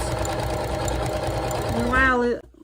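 A sewing machine stitches fabric with a continuous, close mechanical hum, then runs down and stops at the end. A voice speaks over the machine.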